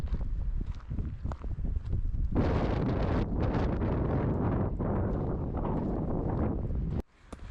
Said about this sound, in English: it's windy, but not rainy